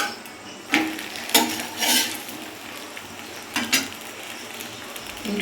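A flatbread lightly brushed with oil is flipped and pressed in a pan, giving several short scraping, rubbing strokes over a low frying hiss with quiet gaps between.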